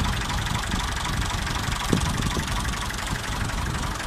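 Massey Ferguson MF 240 tractor engine idling, a steady low diesel rumble holding even throughout, close up and continuous with no voices.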